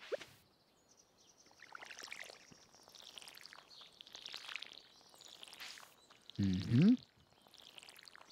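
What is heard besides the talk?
watering plants with a watering can in the video game Stardew Valley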